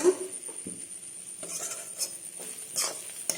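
Fried egg bhujia being stirred into spice masala in a pan, quiet scraping and clinking of a spoon against metal with a low sizzle underneath, a few distinct knocks spaced through.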